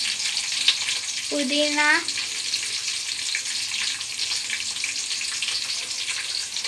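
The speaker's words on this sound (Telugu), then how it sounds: "ఆనియన్స్ చిల్లీస్ కూడా వేసుకోవాలి, బాగా వేగాలి." Onions and chillies frying in a pan for biryani, a steady bright sizzle throughout with a brief spoken word cutting in early.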